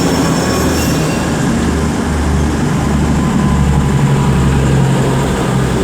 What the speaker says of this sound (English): over there is 39157 departing with the 1410 Avanti West Coast service to London Euston from Blackpool North